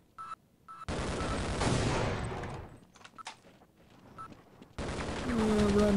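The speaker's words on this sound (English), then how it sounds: "Oh, that would be an automatic turret." An automatic turret in Half-Life opening up in sustained rapid bursts, loud and dense for a few seconds, fading, then resuming, with a voice briefly exclaiming between volleys.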